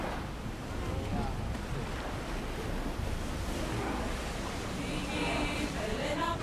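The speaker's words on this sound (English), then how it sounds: "Even the sound design when you're traveling the ocean and the waters." Ocean waves and wind rush steadily while a sailing ship travels open water in the video game Assassin's Creed Odyssey, a continuous broad wash with no break.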